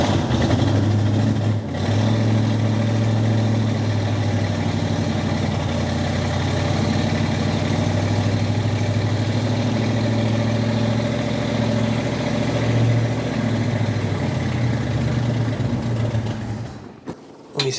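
A junkyard 1966 Mustang V8 that sat for decades runs and idles roughly, its steady low rumble loud and close, with a brief stumble early on before the engine dies near the end.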